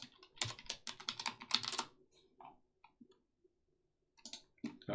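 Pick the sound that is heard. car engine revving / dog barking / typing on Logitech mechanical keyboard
typing on Logitech mechanical keyboard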